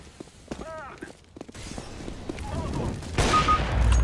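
Gunfire in the video game CS:GO, a few sharp shots popping over quiet in-game ambience, followed by a louder burst of noise near the end, with a commentator talking over parts of it.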